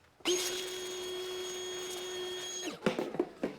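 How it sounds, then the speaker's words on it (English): Shop vacuum running steadily over the top of a 2003-2006 Acura MDX engine, a loud continuous whine with a strong tonal hum for about two and a half seconds, then shutting off followed by a few clunks and handling noises. "we'll just vacuum this really good first so we don't get any dirt or grit inside"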